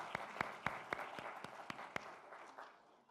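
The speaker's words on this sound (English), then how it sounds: "Give her a round of applause." A small audience at an office celebration claps for a colleague, a handful of sharp, distinct claps at a fairly even pace that soon fade, faint and somewhat distant.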